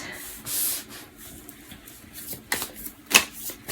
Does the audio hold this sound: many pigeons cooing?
no